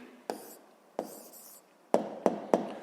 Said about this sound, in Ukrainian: Отже, пишемо відповідь.